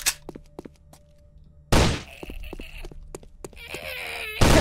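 A zombie in the Left 4 Dead–style game Invention 3 lets out short, strained wailing moans amid thuds and in-game noise, rising in bursts across the scene.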